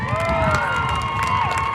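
Crowd at an open cattle show cheering and calling out in a short loud burst, with voices and whoops mixed over a busy arena background.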